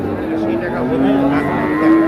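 Friesian heifer calves at a cattle market moo loudly and close by in one sustained, rising bellow over a murmur of market noise.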